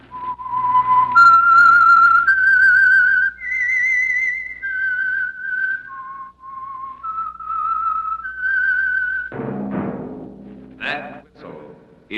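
A lone whistler carries the melodic theme tune of the radio show The Whistler, long sustained notes rising and falling cleanly, followed by a short burst of other sound near the end.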